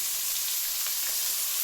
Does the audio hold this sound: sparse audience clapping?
no